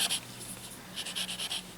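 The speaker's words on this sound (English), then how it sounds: "And working the white charcoal into the paper." White charcoal is rubbed and scratched across drawing paper in short bursts of dry, close, soft scraping strokes with brief pauses between them.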